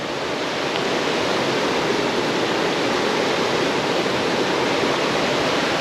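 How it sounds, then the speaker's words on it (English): River water rushes through a gorge after heavy rain, a steady broadband roar that stays loud and unchanging throughout, with no other sounds. "That's just the sound of the gorge behind me."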